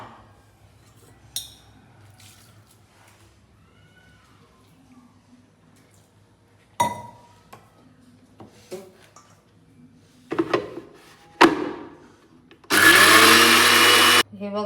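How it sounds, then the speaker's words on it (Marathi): A kitchen mixer grinder grinds rice for dosa batter. Scattered clinks and small knocks of the jar and lid come first, then the motor roars loud and close for a short, steady whirring burst near the end. "हे बघा, परत यामध्ये परत तांदूळ टाकून घ्यायचे आणि परत एक दळून घ्यायचं."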